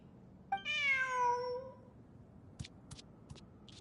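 A cat meows once in the Genshin Impact video game, a clear, drawn-out meow close up, followed by a few light clicks in a quiet setting.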